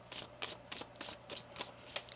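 A deck of tarot cards being shuffled by hand in a quiet room, producing about eight crisp, rhythmic riffling bursts in quick succession, close and clear with no talking.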